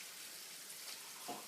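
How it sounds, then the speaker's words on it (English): Starchy water from boiled potatoes is poured into a small jug, a soft steady hissing trickle of liquid, quiet and brief with no talking. "take a small amount of that potato water and pour it into my little jug"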